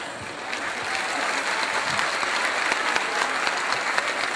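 An audience at a concert in Rome applauds, a sustained wash of clapping that builds slightly and holds steady, with scattered individual claps standing out from the crowd.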